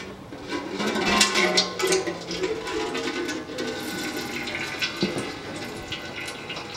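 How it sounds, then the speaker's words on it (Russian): Engine oil drains from a 2007 Ford Ranger 2.5 turbo during an oil change, a steady splashing liquid pour heard up close and fairly loud, continuing throughout with no talking. "Сейчас побежит масло."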